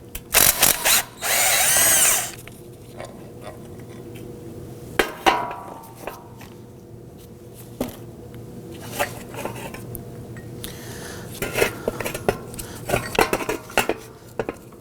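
A 14mm bolt is worked loose and removed from a power steering pump bracket on a 2005-2009 Subaru Legacy 2.5L H4, beginning with a loud power-tool burst followed by scattered metallic clinks and ratchet clicks.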